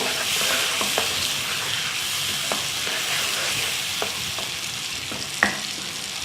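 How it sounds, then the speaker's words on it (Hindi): Spice masala frying in a pan for a steamed bariyan gravy made with chana dal: a steady close sizzle with light stirring scrapes and occasional sharper clicks of a spoon against the pan. "थोड़ा सा हमने इसको भूनना है मसाले को"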